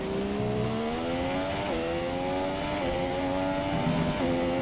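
Several F1 race car engines scream in the F1 2017 video game, one running close behind, with continuous high-pitched revs that climb and dip through gear changes and corners, loud and unbroken by speech.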